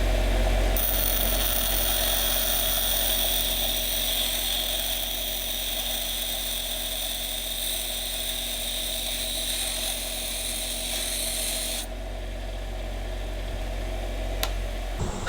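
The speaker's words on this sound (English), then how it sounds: "let's go over to the grinding wheel, get this thing ground down" A grinding wheel grinds down an Allen key, giving a steady, loud whirring hum with a constant high hiss that eases slightly near the end.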